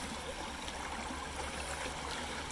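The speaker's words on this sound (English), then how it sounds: "I'm going to go ahead and put some water in here. We'll shake it and we'll give it a little swirl" Water sloshes and swirls in a gold pan holding black sand during gold prospecting in western Washington, a steady close wash with no talk over it.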